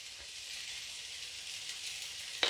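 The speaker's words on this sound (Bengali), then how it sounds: "জলপাইটাকে তেলের মধ্যে একটু নেড়েচেড়ে নিতে হবে" Olives sizzle in hot oil with a steady, moderately quiet frying hiss, ending in a brief clink as they are stirred.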